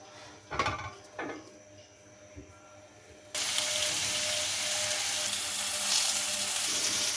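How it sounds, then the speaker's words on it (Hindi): Two tomatoes, four garlic cloves and three dried red chillies hit an oiled grill pan after a few clattering knocks. A loud, steady sizzle follows and continues to the end. "ग्रिल पैन लें और इसको ऑयल से ग्रीस कर लें। 2 टमाटर, 4 लहसुन की कलियां और 3 सूखी हुई लाल मिर्च वो डाल दें।"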